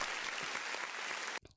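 A short burst of dense applause, steady and fairly loud, cutting off abruptly at the end with a brief faint trailing sound.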